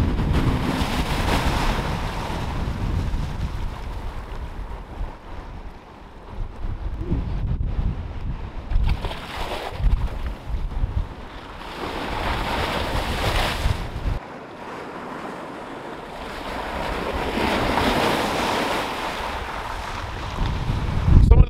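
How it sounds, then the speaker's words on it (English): Large storm waves surge and crash along the Lake Erie shoreline during a spring storm, heavy wind buffeting the microphone, the roar swelling and easing in repeated rolling bursts. "Waves coming down, huge, huge."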